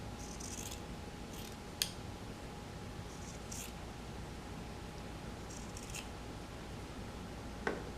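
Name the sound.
scissors cutting off shirt sleeves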